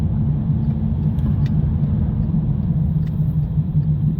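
Inside a Skoda Yeti 1.2 TSI fitted with a Lovato EXR autogas system while it drives on the road, a loud, steady low road and engine rumble continues throughout with no one speaking.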